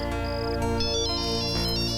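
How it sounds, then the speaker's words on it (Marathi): A phone ringtone plays a bright, repeating electronic melody, loud and clear with no talk over it for a couple of seconds. "अरे आता कोणाचा फोन?"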